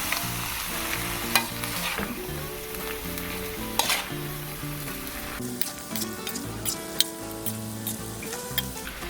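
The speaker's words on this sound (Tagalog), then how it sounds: "Tapos hahaluin lang natin." Adobo with tomato sauce being stirred in a sizzling pan, a spoon scraping and clinking against the metal in irregular strokes over a steady close frying hiss, with a few sharp knocks.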